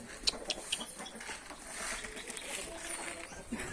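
Asil Hint chickens clucking faintly, a few short sharp calls early on, then softer scattered clucks over a low, rustling farmyard background.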